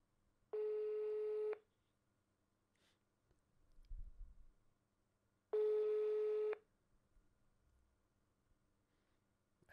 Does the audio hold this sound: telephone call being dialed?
yes